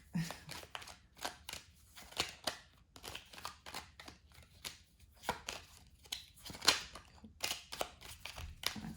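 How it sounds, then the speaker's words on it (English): Tarot cards shuffled by hand in a string of quick, crisp riffles and slaps, close and fairly quiet, with brief pauses between bursts. "I'm not the fanciest shuffler in the world"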